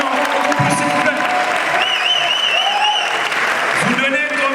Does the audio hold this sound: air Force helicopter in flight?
no